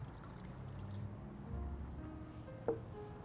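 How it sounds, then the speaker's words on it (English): Water poured into a saucepan at a kitchen stove, a soft steady trickle and low splashing noise, faint and close, with a brief sharper clink near the end and no talking. "So we're going to add 2/3 cup of water"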